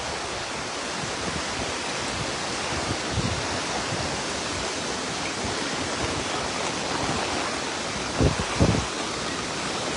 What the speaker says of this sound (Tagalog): Napakalakas ng agos.